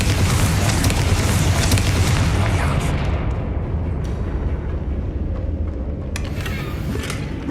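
A magical Confringo fire-blast spell explodes in a video game, a loud deep boom with rumbling debris that fades away, followed by a brief sharp burst near the end.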